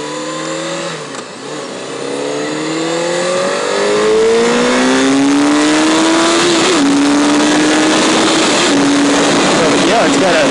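A 2006 Honda CBR600 F4i motorcycle engine pulls hard under acceleration, its pitch climbing steadily through a gear change and growing louder as it speeds up nearby, with wind noise.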